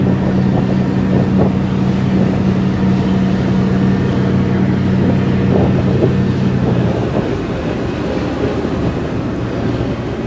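A privately owned passenger ferry on the water in Istanbul gives a loud, steady engine rumble with a low hum, wind buffeting the microphone and a slight drop in the drone toward the end.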